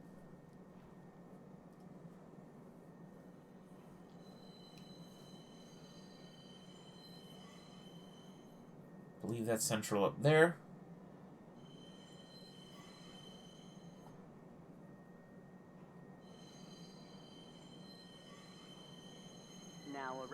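Train pulling into a metro station in the Star Citizen space game: a steady rolling rumble with a brief loud burst of wheel squeal midway, then continued rumble under tonal chimes, with someone talking over it.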